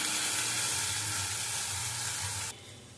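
Ground spice paste containing cashew nuts frying in a pan for an egg dish, a steady close sizzle that drops abruptly quieter near the end.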